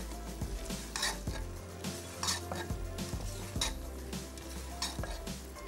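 Food is stirred and fried in a pan, with repeated scrapes and clinks of a utensil against metal over a low sizzle, rhythmic and close.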